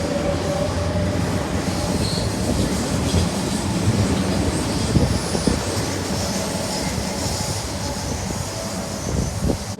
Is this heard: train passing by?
yes